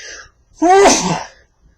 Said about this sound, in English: Of all the times to sneeze, it's when I'm recording.